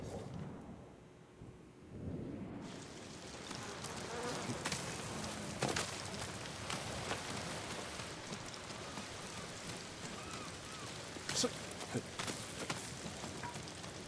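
Steady rain pours across a gulch in the Ghost of Tsushima video game, a dense continuous hiss with wind, occasional brief louder spikes and faint insect-like buzzing woven through, no voices.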